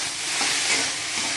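Okra frying in a pan with salt and turmeric, a steady broadband sizzle that stays loud and even throughout with faint stirring movements, no voices.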